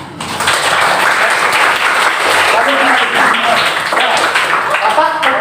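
Students in a mathematics classroom clap together on cue, a loud close burst of applause mixed with voices and chatter throughout.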